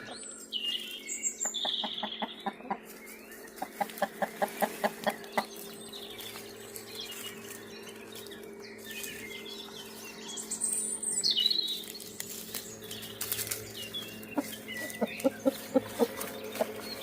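Chickens and a cockerel cluck and chirp outdoors in a dell on their first time outside, with soft, fairly distant calls and bursts of rapid clucking spread across a quiet background.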